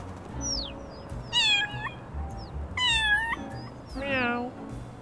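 A cat in the video game Little Kitty, Big City gives three clear, close meows, evenly spaced over a quiet background.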